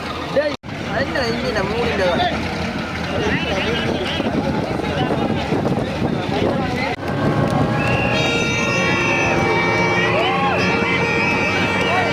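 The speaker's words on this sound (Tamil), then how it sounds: "இப்போ வந்து பார்த்தா 40 ஹோர்ஸ் பவர் கொண்ட படகு போட்டி தொடங்கி விட்டது" Racing boats with 40-horsepower engines speed across the sea at Mathagal, Jaffna during a boat race, a steady engine roar mixed with loud crowd hubbub and wind buffeting the microphone.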